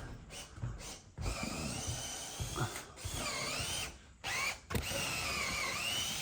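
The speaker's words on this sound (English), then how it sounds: "Dad's gonna drill" An electric drill whines and bogs down boring holes into a log for half-inch lag bolts, its motor pitch rising and falling over several bursts with brief pauses between.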